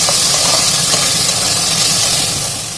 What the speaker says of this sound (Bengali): এবার ভালোভাবে এটা আমি আলুটার সঙ্গে কষে নেব।